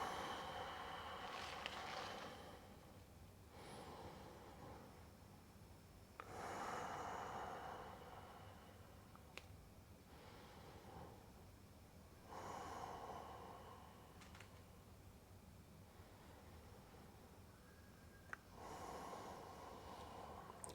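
Slow, deep breathing during a stretching routine, with long audible inhales and exhales repeating every few seconds, close and quiet, with no talking.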